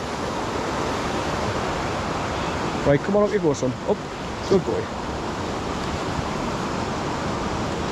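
Hethpool Linn waterfall pouring through a narrow gorge, a constant broadband rush of water throughout, with someone briefly speaking encouragement to a dog over it.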